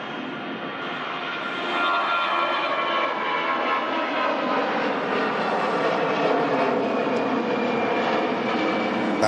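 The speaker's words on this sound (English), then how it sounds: "EasyJet on the roll and rotating." EasyJet airliner taking off at Manchester Airport, a loud, steady roar of jet engines that swells as the aircraft rolls and rotates, heard at a distance without voices.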